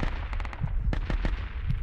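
A DShK heavy machine gun fires in the military shooter game Project Reality: several quick, sharp bursts of muffled gunfire crackle over a low rumble, moderately loud and without speech.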